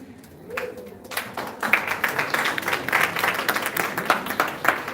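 Audience applause at a ceremony honoring Jamaican guidance counselors, building from a few scattered claps into steady, moderately loud clapping from a crowd.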